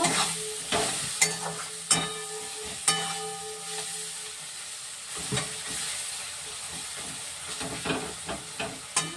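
Lotte fish sizzles and fries in a pan, a steady hiss punctuated by several sharp clattering stirs and scrapes at irregular intervals, close and alone.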